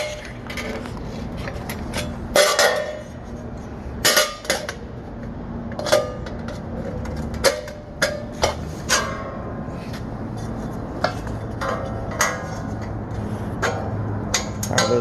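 Steel stud framing snips bite through thin metal studs in a run of sharp metallic clacks and snaps, irregularly spaced, close and loud against a faint room background.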